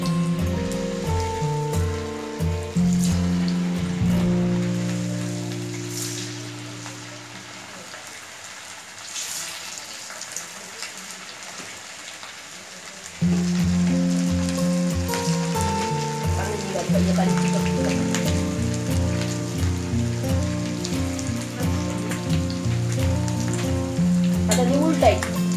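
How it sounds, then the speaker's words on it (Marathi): Thombar vada, a traditional fritter, sizzle and crackle in very hot oil, a steady frying hiss that drops briefly and then resumes strongly as more batter goes in. "तेल हे कडक तापले चांगले त्या कडक तेलात आपल्याला हे वडे आता सोडायचे"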